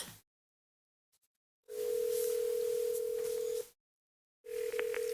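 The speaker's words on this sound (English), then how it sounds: "Phone." A telephone dial tone during a city tree board meeting, heard as two steady electronic tones, the first sustained about two seconds and the second starting near the end, separated by silence, with no talk.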